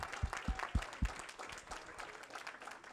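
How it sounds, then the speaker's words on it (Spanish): A church congregation gives a brief round of applause during an evangelistic service, several sharp claps up front fading into a softer, scattered patter that tails off within a few seconds. "Dese un fuerte aplauso."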